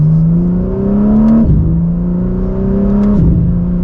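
A BMW M4 CSL accelerating hard in second gear, its engine note climbing steadily, dropping briefly with a quick shift and climbing again, loud and close from inside the car.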